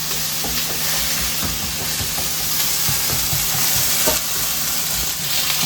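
Ground pork giniling, the Filipino binisang giniling dish, sizzles steadily in a hot pan with occasional stirring scrapes, a loud continuous frying hiss running throughout with no voices.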